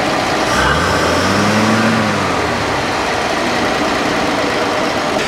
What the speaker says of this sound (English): it's sitting there idling like a sewing machine